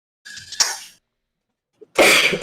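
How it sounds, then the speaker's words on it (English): Two sharp, harsh coughs separated by a short silence, close and loud, the second longer and rougher. "sorry about the coughing"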